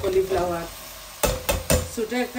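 Cauliflower, carrot and garlic stir-fried in a pan, a steady sizzle broken by a few sharp scrapes of a spatula against the pan, close and clear.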